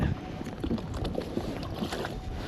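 Wind gusts across a small boat with a rear-mounted motor on open water, a steady blustery rush with some water chop, loud and close to the microphone throughout.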